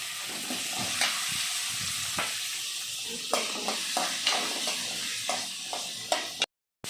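Chopped small onions (shallots) and garlic fry in a pan for a country-chicken curry, giving a steady close sizzle broken by scattered sharp clicks of a spoon stirring, with a brief drop to silence near the end.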